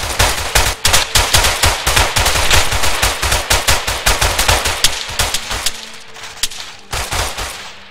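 Rapid volleys of gunfire from a firing squad, dozens of sharp loud shots in a dense rattling burst that thins out toward the end, with a few last isolated reports.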